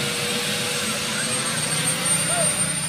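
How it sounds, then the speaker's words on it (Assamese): An army helicopter flies over Duliajan, its rotor and engine making a loud, steady, broad roar that holds at a constant level for the whole stretch with no break. "ভাবিছে চাগে ঘপককৈ আৰ্মি হেলিকপ্টাৰখননো ক'ৰ পৰা আহিলে?"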